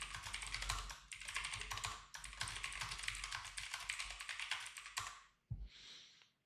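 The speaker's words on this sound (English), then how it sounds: "Let me kind of like type it up." Rapid keyboard typing during a futures trading session, steady clattering keystrokes running continuously for about five seconds, then a pause and a brief final burst of clicks.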